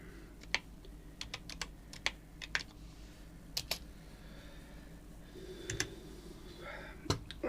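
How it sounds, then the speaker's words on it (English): A loud, clicky computer keyboard is typed on in uneven bursts, with crisp individual keystrokes and short pauses between clusters, close and alone against faint background hum. "I know my keyboard is extremely noisy."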